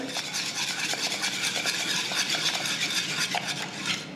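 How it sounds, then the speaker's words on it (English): A whisk beats crème fraîche into a béchamel sauce in a pan, making rapid, busy scraping and clinking close up that runs without a break for a few seconds, with no talking. "I'm gonna add some creme fraiche. And then that should be it. Whisk it in."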